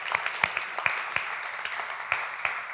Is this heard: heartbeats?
no